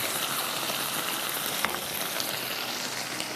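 Diced potatoes for Bihari qeema aalu fry gently in a pan over a slow flame, giving a steady, soft, even sizzle with no voices over it.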